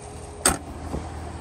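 The hood of a 2016 Chevrolet Corvette Stingray 1LT slams shut nearby with one sharp thud, followed by a fainter second knock about half a second later, then quiet.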